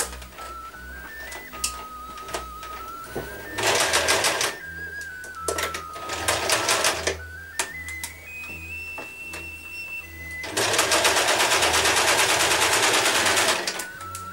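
Sewing machine stitching linen trim onto a medieval dress, running in several loud bursts of rapid needle chatter separated by brief pauses with a rising whine as it speeds up.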